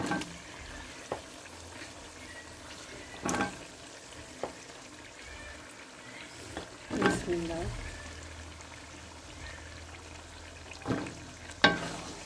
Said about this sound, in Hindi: अब हम इसमें आलू डाल लेंगे